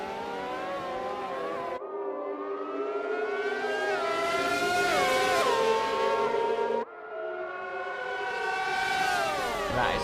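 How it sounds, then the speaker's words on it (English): Classic late-1980s to early-1990s Formula 1 cars at Monaco in the F1 2020 video game, high-revving engines and exhaust screaming through gear changes, several cars heard close together with pitch climbing and dropping, steady and loud with no talk. "In the tunnel it's just good to hear the exhaust and hear the engine sounds of these classical sounds."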